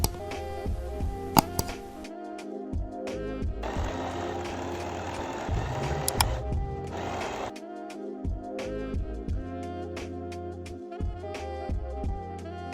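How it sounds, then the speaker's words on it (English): A sewing machine zigzag-stitches folded elastic at the end of a pencil skirt waistband, its needle ticking rhythmically in short runs, with a longer steady burst of whirring stitching in the middle, close and fairly quiet. "Fold the elastic down and top stitch the end of it with the same zigzag stitch or with a twin needle"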